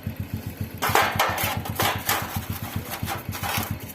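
A rough-running Panther engine idling nearby, its uneven, rhythmic pulsing knock steady throughout, with sharper clattering bursts layered on top.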